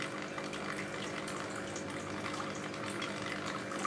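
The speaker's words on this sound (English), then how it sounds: "as you can see, the water filling up here and over here" Water pours and gurgles into a tilapia aquaponics flood-and-drain system set up as a small home vertical farm, a steady, close, continuous wash of splashing flow with no voices over it.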